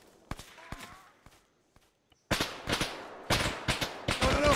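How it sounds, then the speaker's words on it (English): Suppressive airsoft gunfire during an outdoor game: a few sharp shots, then rapid bursts of cracking fire. The shots grow louder and denser toward the end. "Put some suppressive fire on that."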